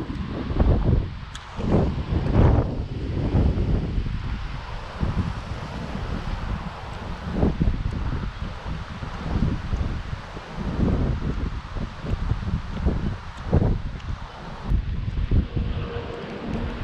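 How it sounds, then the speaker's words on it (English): Strong wind gusting across a microphone outdoors beside a fishing pond, buffeting in uneven low rumbling surges with faint rustling, and no talking. "very windy out here today."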